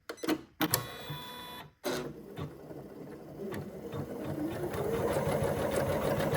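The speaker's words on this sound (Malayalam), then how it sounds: "ഓട്ടോമാറ്റിക്കായിട്ട് സ്റ്റിച്ച് ചെയ്ത് തുടങ്ങി" An Usha Janome sewing machine stitching a sari design automatically, starting with a few sharp mechanical clunks and pauses, then settling into a steady, loud, rapid whirring stitch that builds toward the end.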